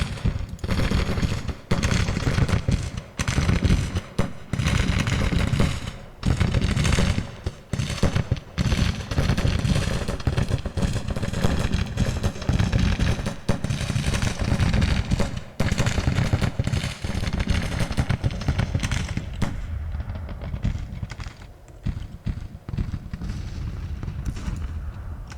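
Civil War infantry gunfire in Grand Tactician: Civil War: loud, dense volleys of musket shots crackle and pop continuously for about twenty-five seconds, thinning slightly near the end.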